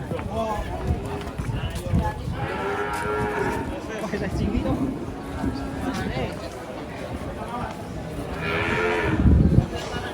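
A cow moos repeatedly at a livestock market after giving birth near a truck, loud and close, over constant chatter and voices from people around.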